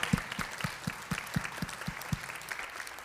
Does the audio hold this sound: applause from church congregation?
yes